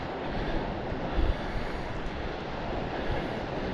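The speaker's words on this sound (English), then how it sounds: "And I'm getting whacked by waves." Surf crashes and rumbles continuously on a New Hampshire beach, a loud broadband wash close by, with a heavier surge about a third of the way through.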